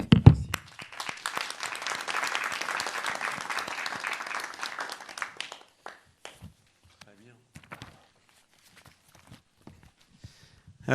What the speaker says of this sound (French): je vous en applaudis